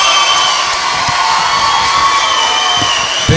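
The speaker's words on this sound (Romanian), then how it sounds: "Să aplaudăm, bravo!" A talent-show audience on Moldova Are Talent cheers and applauds loudly as a guest is invited onstage, a dense continuous roar of clapping and whooping from a large crowd.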